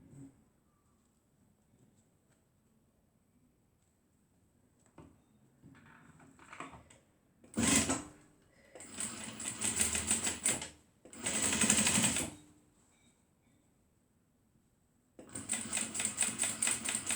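Sewing machine stitching the handle onto the back panel of a homemade fabric waist bag, running in three short loud bursts of rapid stitching separated by quiet pauses and faint handling noises, with no talking.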